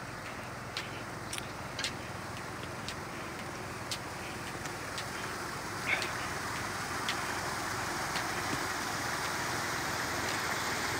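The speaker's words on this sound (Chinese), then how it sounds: "都下雨了，家人们，都下雨了，这里。" Rain falls steadily outdoors in a rural minority village in Guizhou, a soft continuous hiss with scattered drips and taps, fairly distant and even throughout.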